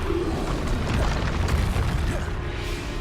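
A Bombarda spell detonates in the Hogwarts Legacy video game on PS4, a loud, dense booming blast with rumbling low end that fills the whole moment without pause.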